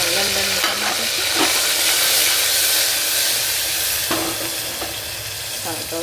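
Tomatoes and a curry leaf mix fry in a hot pan with a steady, loud sizzle and hiss, broken by a few scraping stirs; no one talks.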